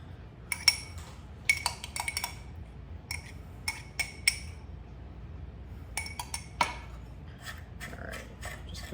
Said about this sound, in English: We'll combine this all with a fork.